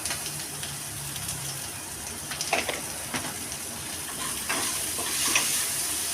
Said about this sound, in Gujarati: હવે આપણે એને થોડી વાર તેલમાં સાંતળીશું